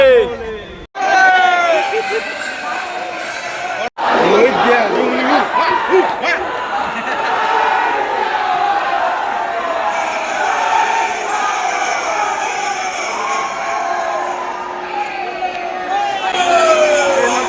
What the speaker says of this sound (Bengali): প্রচুর ভিড়। ভক্ত দেখো কত ভক্ত